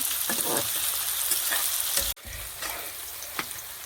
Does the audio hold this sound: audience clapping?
no